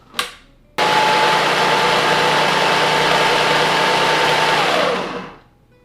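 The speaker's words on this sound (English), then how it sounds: "Mix this on high until the butter forms into pea-sized pieces." A stand mixer runs on high, cutting butter into flour for a sourdough cereal dough, a loud continuous motor whir that starts abruptly after a brief clatter and winds down at the end.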